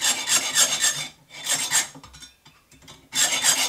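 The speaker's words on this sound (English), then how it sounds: "that's just more hacksaw work" A hacksaw rasps through metal while shaping a wire snelled hook tool, three bursts of rapid back-and-forth strokes separated by brief pauses, close and loud.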